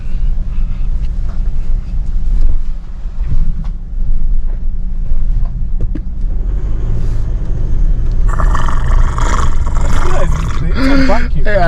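The diesel engine of a 2025 GWM P300 pickup makes a steady deep rumble with wind buffeting, and voices and louder clatter come in near the end.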